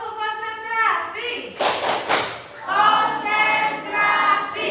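Children in a classroom perform a rhythmic call-and-response clap routine, with short bursts of patterned clapping alternating with group chanting and a teacher's voice.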